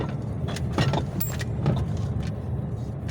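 A car drives along the Amur federal highway in Zabaykalsky Krai, giving a steady low road and engine rumble with faint rattles inside the cabin. The sound is continuous and even, and no one speaks.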